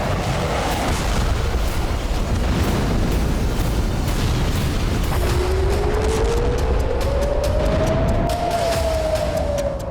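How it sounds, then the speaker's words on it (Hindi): Hezbollah rocket attacks and bombardment on an Israeli city and base: loud, continuous rumbling roar with bursts and booms throughout, and a rising siren-like tone emerging midway and holding to the end. "प्रचंड बमबारी हुई और इस बारूदी कोहराम के लिए हिजबुल्लाह ने खास ब्रह्मास्त्रों का इस्तेमाल किया।"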